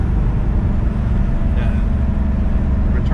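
A 1977 Porsche 911 Turbo Carrera with a single turbo drives under steady, loud engine drone heard from inside the cabin, with a faint whistle from the turbo surfacing briefly.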